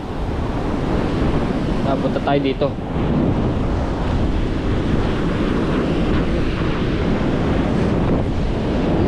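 Steady wind buffets the microphone while sea waves wash onto the Bucana shore near a river mouth, a continuous broadband roar throughout, with someone speaking briefly near the start.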